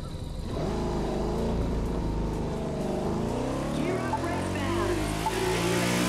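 Ferrari 488 GT3 race car with a 3.9-litre 600 hp V8 in The Crew 2 racing game, engine revving steadily and climbing in pitch as it accelerates, loud and continuous with no talking.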